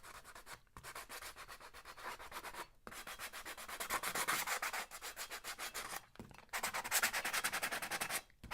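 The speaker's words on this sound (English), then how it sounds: "So when you sand a little bit down" Sandpaper scrubs rhythmically over a ceramic bottle coated with patina wax and primer, close and raspy in quick repeated back-and-forth strokes, broken by three brief pauses.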